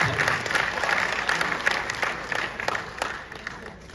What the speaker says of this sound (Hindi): इतना पूरा सदन जोरदार तालियां।